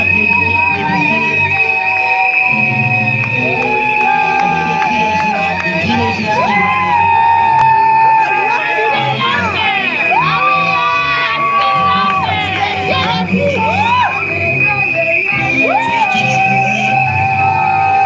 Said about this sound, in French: Applaudissez, applaudissez, applaudissez.